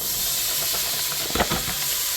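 Butter close to burning sizzles with a broad, steady hiss in a pan as onions go in for a cabbage and collard greens mix, with a brief louder crackle partway through and no talk.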